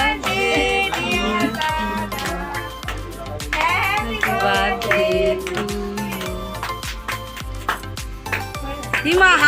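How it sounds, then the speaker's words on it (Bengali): Rhythmic hand clapping keeps time with group singing and music at a family birthday celebration for an elder brother, the claps steady and close beneath the voices. "হাততালি দিয়েই চলেছে সে"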